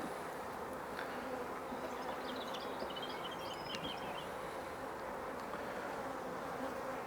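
Honey bees in a shook swarm hive on drawn frame fill the air with a dense, continuous buzzing hum, steady and close, with no voices.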